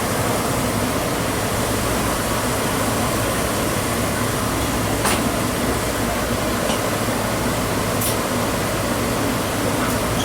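A Dexter T300 commercial washer with worn bearings runs with a loud, constant rumbling roar and broadband whoosh, steady throughout with a couple of faint metallic clicks.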